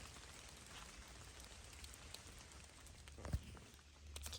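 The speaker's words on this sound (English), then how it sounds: "think it's raining now" Light rain falls on a rocky stretch of the Appalachian Trail, a soft steady patter with a sharp knock partway through, faint and fairly close.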